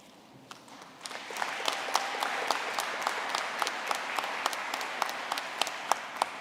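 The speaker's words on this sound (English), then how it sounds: "and then you already clapped" A commencement audience applauds steadily, with sharp individual claps rising out of a dense wash of clapping that swells after the first second and holds at a strong, even level throughout.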